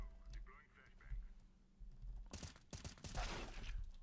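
Bursts of gunfire crack out in a Counter-Strike: Global Offensive match, several sharp, loud shots clustered near the end, following quieter game sounds and a voice talking early on.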